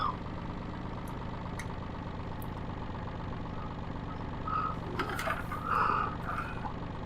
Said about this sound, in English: This is not, as I say, this is not a bad little tractor.